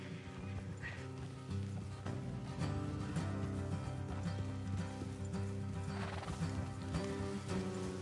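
Horses in the video game Red Dead Redemption 2 neigh and whinny over steady clip-clopping hooves, with a game music bed running continuously beneath them for the whole stretch.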